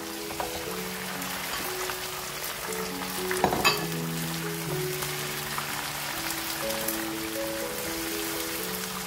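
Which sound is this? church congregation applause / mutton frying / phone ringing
mutton frying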